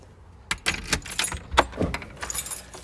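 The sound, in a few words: keys jangling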